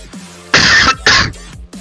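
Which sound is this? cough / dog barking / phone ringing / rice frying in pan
cough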